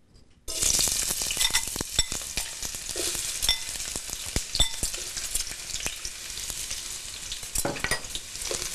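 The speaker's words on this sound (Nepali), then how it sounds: "अब यसलाई चाहिँ तार्नुपर्छ." Chopped onions fry in a pan for Nepali aloo bodi tama, a dense crackling sizzle that starts abruptly and holds steady, with occasional sharp pops and stirring clicks close up.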